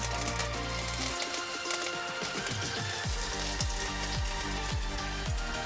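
Curry leaves sizzle in hot oil in a kadai, a loud, dense crackling and spitting that runs without a break, with quick popping bursts throughout.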